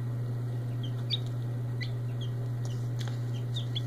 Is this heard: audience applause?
no